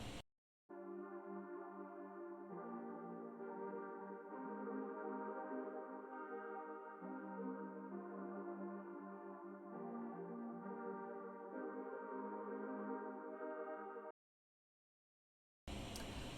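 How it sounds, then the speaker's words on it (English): A sustained synth sample layered under strings in a beat-battle production plays as a rich, steady chordal pad with shifting harmonies, alone and unbroken, before cutting to silence near the end. "I got this synth sample as well and placed it on below of the strings"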